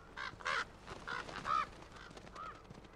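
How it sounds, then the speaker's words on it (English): Honking bird calls in the video game The Last of Us: a handful of short, separate squawks at an uneven rhythm, faint and fairly distant, with no talking. "Birds."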